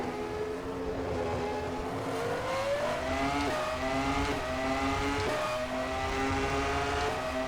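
1999 F1 race car engine in the rFactor 2 racing sim, a loud, continuous high-revving wail rising through the gears with brief dips at upshifts, heard close and alone.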